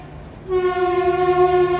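A loud, steady train horn starts suddenly and holds a sustained rich tone against a low background rumble as a train arrives near a bridge.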